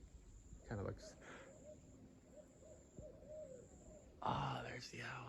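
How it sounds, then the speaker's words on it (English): An owl hoots at night outdoors beside a road, a few soft low calls spaced out in quiet darkness, with brief louder rustling bursts near the start and end. "there's the owl"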